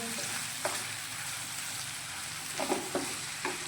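Shahi paneer curry is stirred in a pan after salt goes in, with a steady low sizzle throughout and a few soft spoon scrapes and taps against the vessel, close by.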